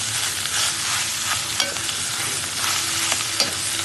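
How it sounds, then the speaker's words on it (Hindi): Crumbled boiled potatoes are stirred with spices in a hot pan for mirchi vada filling, giving loud, continuous sizzling and scraping with a few sharp utensil knocks and no voices. "और अच्छी तरीके से मसालों के साथ मिला लेंगे आलू को।"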